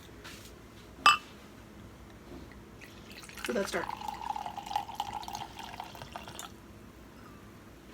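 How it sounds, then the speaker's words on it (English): Gigondas red wine pours into a glass, a soft gurgling trickle lasting a few seconds after a single clink, close and quiet, with a brief spoken remark just before. "All right, here we go. Let's take a pour."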